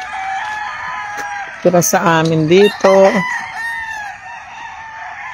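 Roosters crow at a farm with a large flock of chickens, two loud, close crows, one following the other, over a steady background hum, while someone speaks quietly in Filipino at the start and end.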